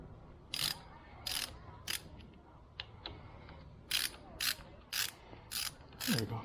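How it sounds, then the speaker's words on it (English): A Torx T30 driver loosens two clutch lever bolts on a TSE250, making a series of quick, faint ratcheting clicks in two clusters separated by a brief pause, close by and quiet. "And then we're gonna loosen the two bolts with a T1, T30."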